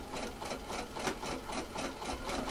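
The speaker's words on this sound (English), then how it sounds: "I'm doing zigzag stitch here as well." A sewing machine runs a zigzag stitch attaching an elastic waistband to a skirt, a steady, fast mechanical chatter with regular rhythmic pulses, close and continuous throughout.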